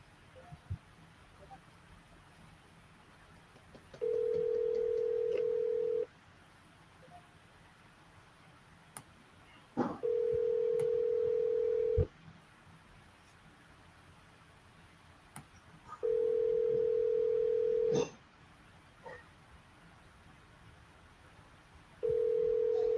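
A phone line ringing out on an outgoing call, with four evenly spaced steady tones of about two seconds each, separated by pauses, clear over a faint background hiss.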